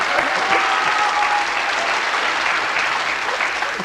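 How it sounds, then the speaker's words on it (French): Studio audience of a 1989 French-language Jeopardy game show claps for a contestant, loud sustained applause holding evenly throughout and fading slightly at the end. "Applaudissez-la."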